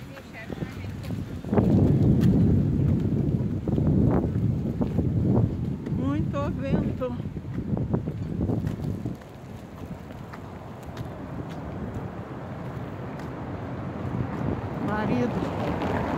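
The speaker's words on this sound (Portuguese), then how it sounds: "Muito vento." Blustery wind buffets the microphone in strong, rumbling gusts at Praia de Belas park in Porto Alegre, easing partway through, with a voice speaking briefly underneath.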